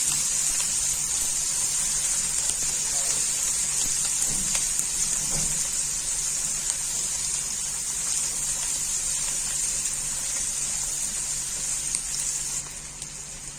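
Garlic frying briefly in hot oil in a pan while cooking cauliflower and mutton curry, giving a steady, close hiss of sizzling throughout with no talk.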